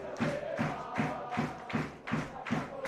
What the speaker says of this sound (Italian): e continuano i tifosi